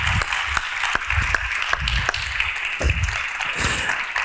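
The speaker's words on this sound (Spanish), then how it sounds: "Un aplauso, por favor" Live audience applause at a Spanish-language music industry podcast event, a steady wash of clapping with distinct sharp claps standing out, continuous and fairly loud for several seconds with no talk.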